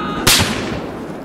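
A single shotgun blast fires in the video game Battlefield 4, a sharp loud burst that decays over about a second, with no talk.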